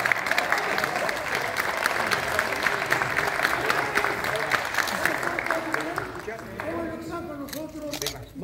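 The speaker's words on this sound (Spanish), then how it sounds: "Quiero que le brindemos un fuerte aplauso al personaje de Don Pedrito" Loud, dense applause fills the hall at a cast presentation for the stage show Perfume de Gardenia as actor Alejandro Suárez is introduced, steady for several seconds before fading under voices and chatter.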